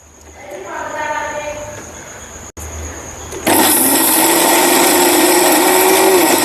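A mixer grinder powders roasted black chickpeas. A softer whirring and faint voice sounds come first, then the motor starts up loud, harsh and steady for the last few seconds.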